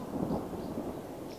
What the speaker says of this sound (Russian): Вот видите, гром гремит.